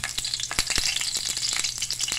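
Brown anoles fry in a pan, giving a close, steady sizzle broken by crackling pops and the scrape of stirring.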